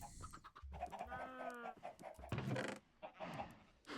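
Minecraft chickens cluck and squawk close by in a quick, busy cluster, with a few sharper calls and short bursts of scuffling noise between them.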